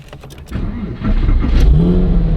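A Porsche 911 engine cranks over and catches, the low rumble rising quickly into a loud, steady idle close by after a few brief clicks.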